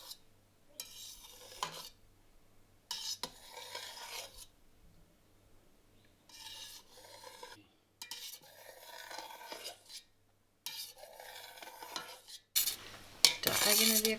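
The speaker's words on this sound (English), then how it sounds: "The way to cut the curd is down and across in little 12 millimeter cubes" A knife cuts through halloumi cheese curd in a pot, making close, soft scraping and slicing strokes in bursts separated by pauses, ending with a louder clatter.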